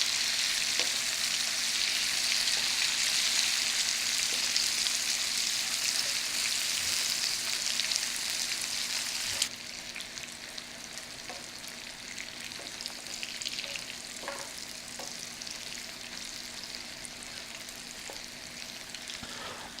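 Sliced white mushrooms fry and cook down in a pan with a continuous close hiss and sizzle, which drops a little partway through, with occasional light stirring taps and no talk.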